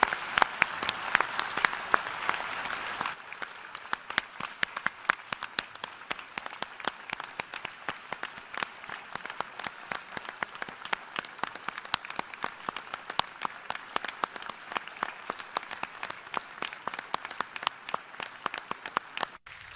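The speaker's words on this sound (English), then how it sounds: "I think we owe him a good round of applause" Audience applause at a formal General Assembly gathering, a dense wash of many hands clapping, loudest in the first three seconds and then continuing steadily with sharp individual claps standing out until the end.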